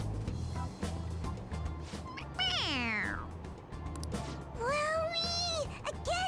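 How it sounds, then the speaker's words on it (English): A toy cat squeezed on the head gives two loud electronic meows, the first sweeping downward and the second long and flat, with faint game background underneath. "It meows when you press on its head."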